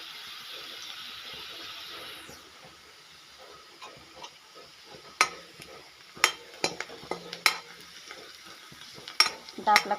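Onion frying in a pan on the stove for a Marathi-style chickpea-leaf bhaji: a steady sizzling hiss at first, then scattered scraping clicks of stirring, with louder knocks of the spatula near the end and no talk.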